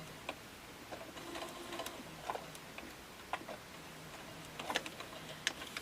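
A sewing machine stitches a fabric ornament in short, uneven bursts of quick ticking and whirring, close and moderately quiet with pauses between runs.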